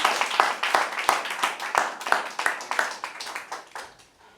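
Audience at a school debate in Lagos giving a round of applause to the winner, a modest group clapping in sharp, fairly rhythmic claps that ring out near and clear, then thin and fade toward the end.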